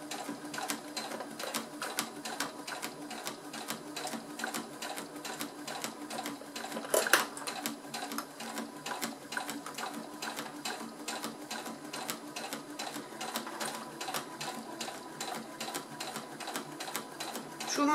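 A sewing machine stitches steadily along the zipper of a faux-leather half-moon coin purse, a fast, even mechanical rattle with a brief louder knock partway through, close up and unbroken.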